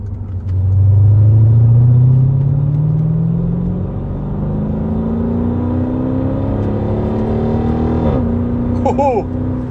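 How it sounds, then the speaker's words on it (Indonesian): Mercedes SLK 55 AMG engine revving loudly and steadily, pitch climbing through the revs with blips of rev matching on gear shifts near the end, a close deep rumble throughout. "Ada kayak ref matchingnya kalau lagi pindah gigi."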